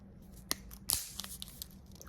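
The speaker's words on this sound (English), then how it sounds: "I like to break my razor into two." An eyebrow razor snapped in two gives a small sharp crack, then a brief rustle and a few faint clicks, close and quiet.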